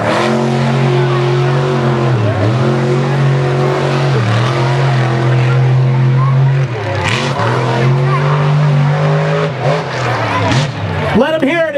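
The Xtermigator monster truck, sponsored by AMALIE Motor Oil, roars around a freestyle racetrack at Mt. Pleasant, Michigan, its loud engine revving and dipping repeatedly with tire squeals, while an announcer talks over it.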